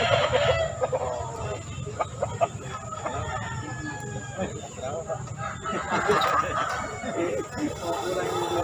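A Bangkok breed fighting rooster that has won twice clucks and crows close by, loud and repeated, while people talk over a busy outdoor background.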